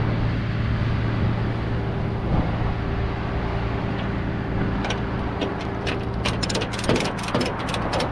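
Ratchet straps are cranked tight on a car being towed, a run of quick metallic clicks over a constant low engine hum that grows sharper near the end.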